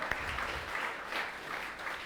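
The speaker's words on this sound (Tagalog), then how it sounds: "The best mong palakpak para kay Lord" Church congregation clapping for the Lord during a worship service, a short burst of moderate, fairly distant applause with a soft, even texture.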